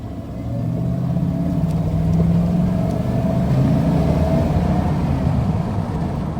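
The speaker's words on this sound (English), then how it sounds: "Let's do a little acceleration here." A 1995 Ford F-150 XL pickup with a 5.0 V8 drones steadily with a low rumble that rises slightly as it accelerates, heard from inside the cab with constant road noise.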